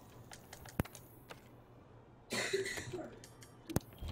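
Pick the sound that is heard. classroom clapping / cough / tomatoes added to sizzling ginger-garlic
cough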